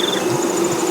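Honey bees buzzing during a late-summer hive inspection for American foulbrood, a close, loud and continuous drone over a brief moment.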